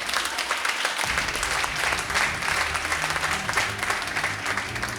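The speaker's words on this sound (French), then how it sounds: "Je veux qu'on donne une bonne acclamation pour Dieu" Congregation at a Sunday church service breaks into applause about a second in, a dense, steady clatter of many hands that carries on to the end over a low sustained tone.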